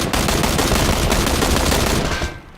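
Dense, rapid video game gunfire fills the moment, loud and continuous, before cutting off sharply at the end with no voices heard.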